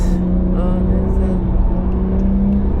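A Toyota Supra drives the Nürburgring circuit, its engine a steady, loud drone throughout with some revving.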